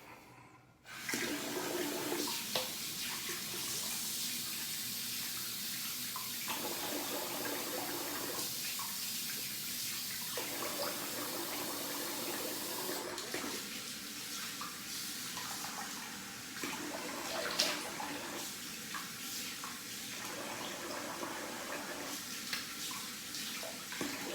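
Tap water runs steadily from a faucet as someone rinses off after a double-edge safety razor shave, a continuous close hiss with faint splashing changes lasting throughout.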